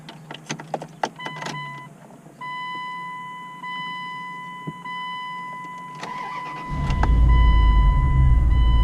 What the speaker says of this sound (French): Je sais pas si vous entendez le moteur, mais on va essayer d'accélérer un peu.